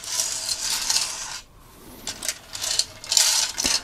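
A LEGO Technic 42112 concrete mixer turns its drum as the model drives, making loud, continuous clattering and rattling of loose plastic parts with a brief lull in the middle and no talk.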